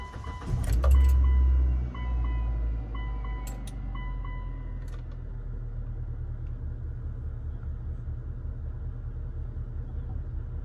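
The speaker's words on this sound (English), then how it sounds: "First startup since fixing all of this stuff." A 2002 Mitsubishi Lancer engine, recently repaired, cranks and catches with a loud close burst in the first couple of seconds, then settles into a steady low rumbling idle with faint jangling at the start.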